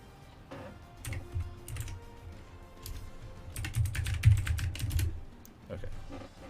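Close typing on a computer keyboard, bursts of rapid irregular key clicks that swell and fade in clusters over a quiet background, no voices.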